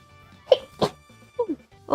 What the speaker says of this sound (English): Sorry. The sneezes, the pollen. It's coming for me.